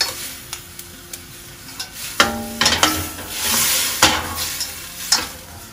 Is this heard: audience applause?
no